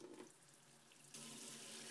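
Hot water runs from a tap to rinse parts of a mechanical paintball marker, a soft steady hiss that surges louder partway through as the flow strengthens.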